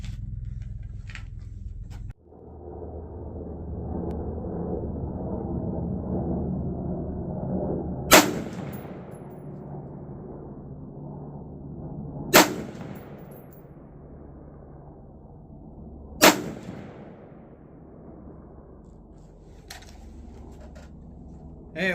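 Three loud, sharp rifle shots ring out several seconds apart, firing 69 grain Sierra MatchKing 5.56 ammunition over a steady outdoor background hum.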